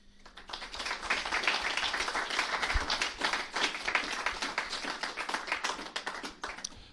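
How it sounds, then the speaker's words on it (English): Evening crowd at a darts final, the IPA Tour European Open, applauding the two finalists: a sustained wash of dense, fairly distant clapping that swells gently and keeps going without speech. "a round of applause for two great players who produce a superb final for us all here tonight"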